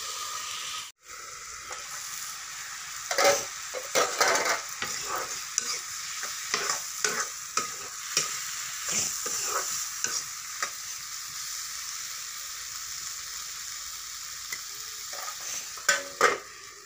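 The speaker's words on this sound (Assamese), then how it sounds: "এইফালে দাইলতো অকণমান তেল মাৰিলোঁ" Dal sizzles and fries in a pan after a little oil is added, a steady bright hiss running throughout with repeated scrapes and clinks of stirring, close and fairly loud, no voices.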